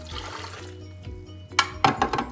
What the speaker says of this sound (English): now we are going to add water, and we are using 250 milliliters of water